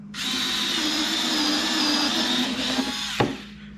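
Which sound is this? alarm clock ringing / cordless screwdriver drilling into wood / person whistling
cordless screwdriver drilling into wood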